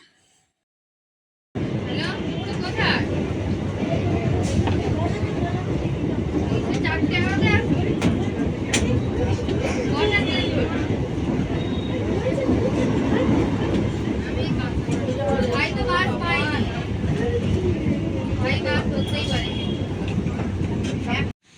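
A suburban passenger train rolls toward Kanchrapara with a steady, loud rumble and rattle of the carriage, and faint voices are heard inside the coach.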